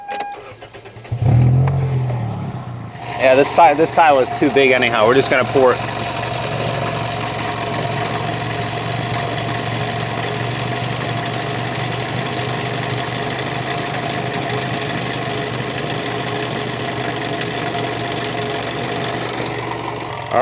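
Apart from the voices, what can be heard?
car engine starting and idling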